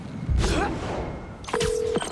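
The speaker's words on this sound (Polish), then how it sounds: "Odbieram jakiś dziwny sygnał Spiderbota." Strange electronic Spiderbot signal in Marvel's Spider-Man 2, a gliding synthetic chirp followed by a steady held tone with bleeps, heard alone and fairly loud.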